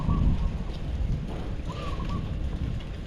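Gusty outdoor wind buffeting the microphone at a rural farm, with low rumbling blasts that swell and ease and a faint bird-like chirp partway through.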